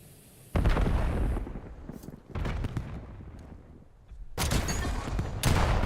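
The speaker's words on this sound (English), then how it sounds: "Whoa, that's a nade." Grenade explosions in a Call of Duty match: several heavy booming blasts with rumbling tails, loud and close, separated by brief quieter gaps, with no talking.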